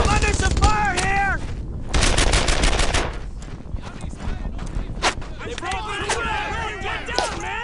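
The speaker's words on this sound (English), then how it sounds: "Taking fire!" Battle gunfire from Brothers in Arms: Earned in Blood, a World War II shooter, rattles in dense automatic bursts and single shots, with shouted voices mixed through the chaotic combat.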